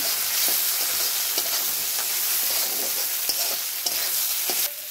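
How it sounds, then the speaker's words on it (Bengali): Gobindobhog rice fries in a pan with a continuous bright sizzle, broken by several sharp scrapes of stirring spread through the moment, close and fairly loud, with no voices. "চালটা আমি একবারে ভেজে মশলা দিয়ে দিব।"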